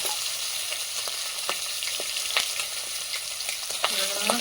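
Fish sizzles hard in oil over a strong flame, a loud steady hiss studded with irregular pops and crackles of spattering, plus a few scraping touches near the end.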